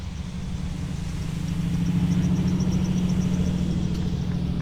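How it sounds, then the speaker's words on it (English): A drift car runs a slow scrub lap at Meremere Drift Park to warm its tyres during qualifying, a steady mid-pitched engine drone that swells slightly and holds continuous, fairly near, with no talk. "should just do a basically a scrub lap here, get some heat into the tyres"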